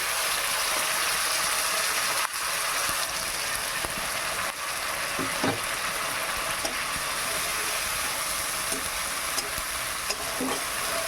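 Spice paste hits hot oil and fries with a dense, steady sizzle that fills the whole stretch, broken by a few clicks and scrapes of stirring; no one speaks.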